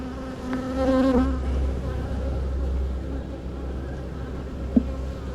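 Honeybees drone softly around a hive frame during an inspection, a faint steady buzz close by with occasional brief louder passes and a sharp knock near the end, while a person speaks quietly.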